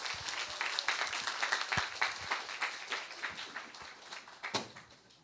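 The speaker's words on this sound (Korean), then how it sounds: "우리 박수로 환영해 주시기 바랍니다." Scattered audience clapping welcoming a lecturer to the front at a Sunday afternoon church talk, a modest, uneven patter of hands that thins toward the end.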